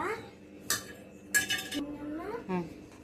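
A spoon stirs tomato pieces and turmeric in a cooking pot for tomato charu, giving sharp metallic clinks and scrapes against the pot, with a voice briefly heard between them.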